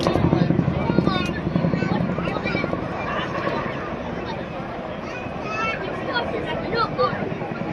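A Chinook twin-rotor helicopter, about 10,000 shaft horsepower and 15 tons, performs an airshow display, its steady loud rotor drone and engine roar continuing throughout over crowd babble.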